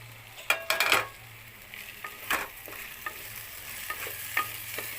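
Potatoes fry in spiced oil over a medium flame for a fish and potato dish, a soft, steady sizzle under several clattering scrapes of a spoon stirring in the pan.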